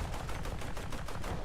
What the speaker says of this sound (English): Some gunfire support